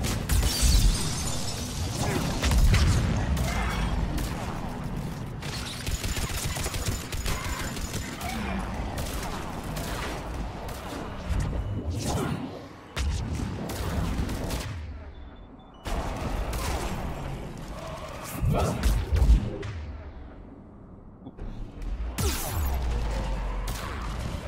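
Heavy gunfire fills a Mass Effect 3 firefight, with rapid bursts, single shots and explosive impacts coming almost continuously. Game dialogue is heard between the volleys.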